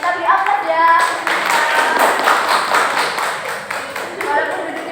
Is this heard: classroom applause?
yes